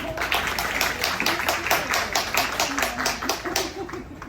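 Applause from an audience at a content creator brand event in New York City, a dense steady patter of many hands clapping at moderate distance, sustained throughout with faint voices mixed in.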